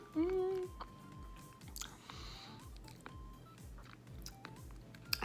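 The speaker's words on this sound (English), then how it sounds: "Sorry I'm chomping like that." A person chewing a mouthful of spaghetti squash and meatballs close to the mic, soft wet squishy bites repeating steadily throughout, with some background noise and light speech-like sounds.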